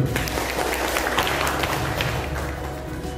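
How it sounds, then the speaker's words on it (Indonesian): Audience applause at a school committee workshop, a steady wash of clapping hands running through the whole stretch at moderate volume, with some crowd murmur underneath. "Tepuk tangan Pak Agus"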